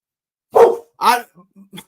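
A dog barks twice, loud and close, with a couple of short, softer yips trailing after in an otherwise quiet room.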